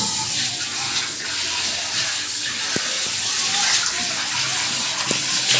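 Water runs steadily from a tap while vegetables or chillies are washed in a home kitchen, a continuous splashing gush with a few faint knocks.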